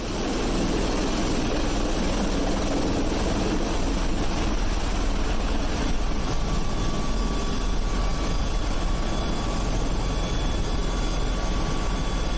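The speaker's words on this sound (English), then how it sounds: "This helicopter taking off from an aircraft carrier filmed from the cargo bay." A helicopter lifts off from an aircraft carrier, heard from inside the cargo bay as a constant, loud, dense rotor-and-turbine roar with no pauses, steady from start to finish.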